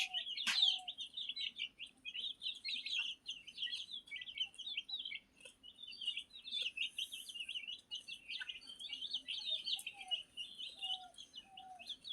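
Chickens and chicks peck and feed on a Bangladeshi farm, with dense, rapid high peeping from the chicks running throughout and a few lower clucks from the hens breaking in now and then, all close and fairly quiet.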